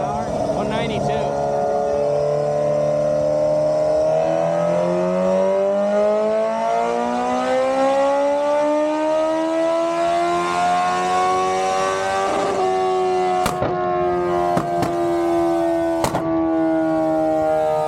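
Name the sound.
superbike engine revving on a dyno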